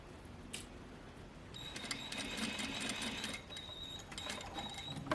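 Sewing machine stitching a double welt pocket, a steady mechanical whir with stops and restarts as the needle pivots, close and fairly loud with no talk.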